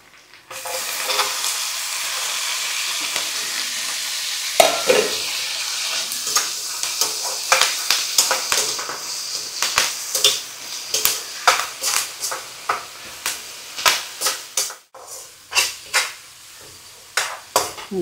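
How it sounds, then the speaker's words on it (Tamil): Tomatoes cooking down in a pan, a soft continuous sizzle under frequent sharp scraping and tapping strokes of a spoon against the pan, growing more distinct and rhythmic toward the end. "தக்காளி நல்லா குழைய வெந்துடுச்சு"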